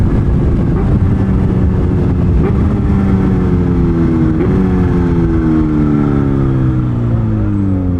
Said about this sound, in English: I'm gonna bang a couple downshifts down here as we go to this red light.